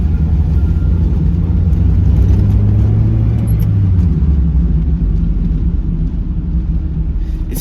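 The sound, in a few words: Mazda Miata engine revving and idling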